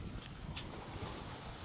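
Steady wind rushing past an aluminum sailboat under sail at around ten knots, a continuous low buffeting roar with faint water wash, no talking.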